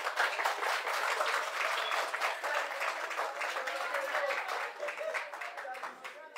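An audience at a physics degree colloquium anniversary breaks into sustained applause, a dense wash of many hands clapping steadily for several seconds before starting to thin out toward the end.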